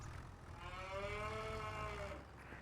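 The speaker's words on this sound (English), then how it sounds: "See, my cows are not accepting what they need" A single long, close cow moo with a clear tonal drone in a Farming Simulator 25 farm, rising and holding before fading out, with no speech.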